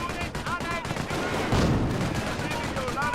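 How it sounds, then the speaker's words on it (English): Artillery barrage from the World War II strategy game Company of Heroes, a dense rumbling roll of impacts and gunfire with one heavier burst midway, while a voice talks over the top. "Some sort of artillery barrage there."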